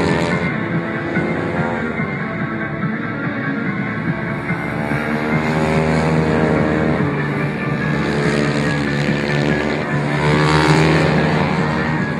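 Four-stroke racing motorcycles pass the control line at Shiraito Speedland during an HRC Trophy race final, a loud, continuous engine roar with rising and falling pitch as bikes sweep by on the straight, steady throughout with no gaps.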